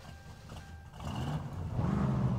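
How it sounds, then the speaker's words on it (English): A deep muscle car engine in the video game My Summer Car rumbles to life and revs up, a loud growling roar that swells over a couple of seconds. "Glorious sound of the muscle car."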